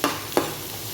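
Onion and tomato sautéing in a pan for a creamy barracuda and mushroom dish, with two brief stirring scrapes against a soft steady sizzle, close and fairly quiet.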